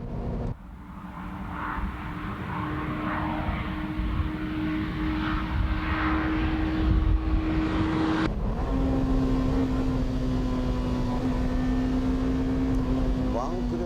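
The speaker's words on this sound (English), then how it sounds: "Let's see how the car reacts at full throttle without slalom." New BMW M3 engine at full throttle, a steady, loud, sustained engine drone with a rising tone that briefly drops as it shifts, then holds, mixed with strong wind noise.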